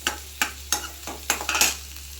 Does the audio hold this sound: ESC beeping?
no